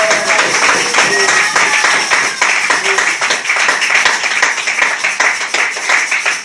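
A church congregation applauding in a dense, continuous burst of many hands clapping, loud and close, with a few voices calling out over it.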